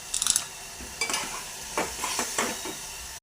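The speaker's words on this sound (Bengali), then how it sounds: "সামান্য জল দিয়ে এবার এই জিনিসটাকে ভালো করে কষাতে হবে।" Small potatoes for aloo dum stir-fried in a pan with a little water, scraped and turned in a few distinct bursts of clinking and soft sizzling, close and moderate.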